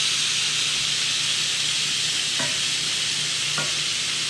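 Lamb chops sear in a hot pan with a loud, steady sizzle and hiss, and two brief clinks of utensil against the pan stand out over the continuous frying.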